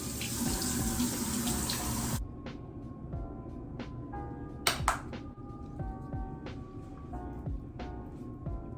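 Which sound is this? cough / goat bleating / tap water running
tap water running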